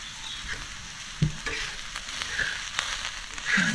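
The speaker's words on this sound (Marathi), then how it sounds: "चांगलं असं परतून घ्यायचं बघा कसं दिसतंय बघा वाटण" Onion, grated coconut and coriander masala sautéing in a pan for a Konkani curry, with a steady soft sizzle broken by scraping stir strokes and a few louder clatters, close up and with no talking.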